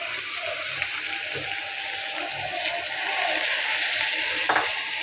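Red chili powder and spices fry in a pan with a loud, continuous sizzle, broken by occasional stirring scrapes and clinks.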